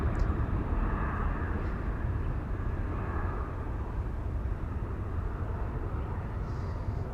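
An airliner near runway 24 at Schiphol airport produces a steady, distant jet rumble that holds at low level throughout.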